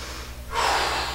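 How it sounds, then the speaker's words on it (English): Heavy breathing during a no-jump cardio boxing workout, a forceful close inhale and exhale swelling midway into a loud rushing breath. "That's it, nice breathing"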